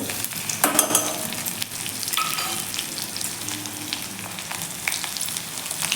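Garlic, green chili and cumin seeds frying in hot oil for a traditional horse gram soup, a steady close sizzle with stirring scrapes and a louder burst of crackle near the start.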